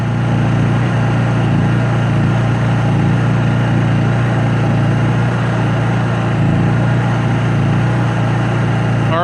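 A Honda 3000is inverter generator engine runs at a steady, loud, close-up hum with a constant low drone and no change in pitch throughout.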